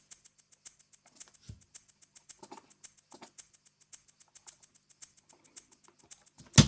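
Programmed MIDI drum groove with a light swing feel: rapid, bright hi-hat ticks in an uneven lilting pattern, with occasional soft snare hits and a kick at the end, no voices.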